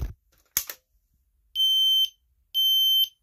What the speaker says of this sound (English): the O series is pretty loud, so we're gonna cover it